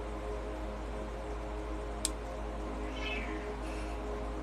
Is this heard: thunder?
no